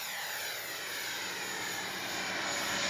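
Freewing 90mm T-45 RC model jet making a touch and go, a continuous high-pitched ducted-fan whine and rush that swells slightly louder as it passes, with no talk.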